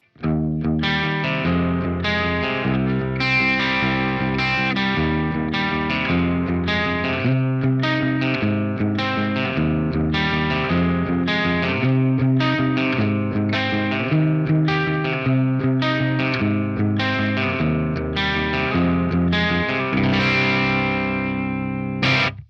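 Electric guitar played through the clean channel of a budget Marshall amp with the gain high, pushed into mild breakup, strummed chords and riffs ringing steadily and loudly with no talking.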